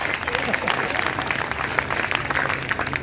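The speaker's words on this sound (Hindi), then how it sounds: "अगर आपके हाथों में शक्ति शेष है तो आप मेरे लिए भी तालियां बजा सकते हैं" Audience applause at a Hindi poetry gathering (kavi sammelan) in Shamshabad, a brief burst of dense clapping heard up close and fairly loud for a few seconds.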